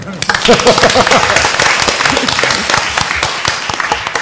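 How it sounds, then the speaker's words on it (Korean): An audience at a lifelong education symposium in Ulsan's Buk district applauds a top graduate, loud sustained clapping that fills the whole stretch, with voices mixed in near the start. "우리 박수 한번 쳐주십시오"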